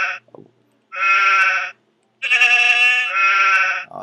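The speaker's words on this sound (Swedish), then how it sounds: "det där är nog ett får" A robot's programmed button plays a recorded sheep bleat: three loud, close, nasal bleats separated by short silences, with a faint click before the first.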